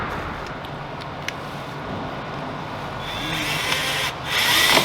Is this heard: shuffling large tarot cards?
no